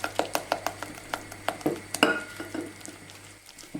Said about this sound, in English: I'm gonna start mixing them with the sugar until they're gonna go in a creamier color and increase a bit in volume